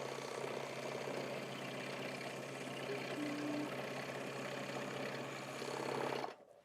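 A Baby Lock serger sews a stitch with a faint, steady mechanical whir and hum that runs evenly for about six seconds and then cuts off.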